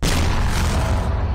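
A deep, heavy boom as an enemy tank is destroyed in the military shooter Arma 3, a loud broadband blast that fills the whole moment and rumbles on for over a second without fading.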